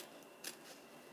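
Scissors snip through paper while a bag for junk journal signatures is being shaped, one short crisp cut close by in an otherwise quiet moment.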